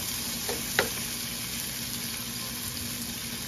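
Sardines and mackerel in tomato sauce sizzle steadily in a pan, a continuous close frying hiss with one brief clink of a utensil early on and no talking.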